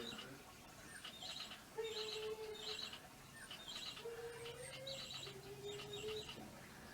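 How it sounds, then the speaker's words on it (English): A pet bird indoors chirps and tweets in short repeated phrases, with some longer whistled notes, soft and fairly close against quiet room noise. "It doesn't tweet anymore. Yeah, it does."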